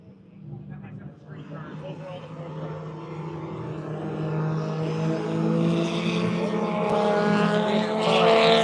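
A drift car engine at Formula Drift Road Atlanta climbs steadily in pitch and volume, its revving whine building from moderate to loud over several seconds.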